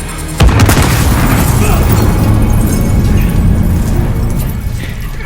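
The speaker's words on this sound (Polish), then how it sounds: "Bomba wybuchła." A loud, sudden video-game bomb explosion in Call of Duty: Modern Warfare booms and rumbles on, a deep roaring blast that slowly fades with debris-like crackle.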